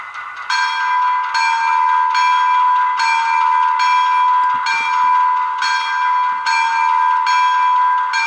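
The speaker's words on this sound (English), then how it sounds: "And you can hear the bell." A model GP7 locomotive's sound decoder bell rings steadily in a regular, repeating clang, loud and sustained with a slightly electronic tone, with no voices.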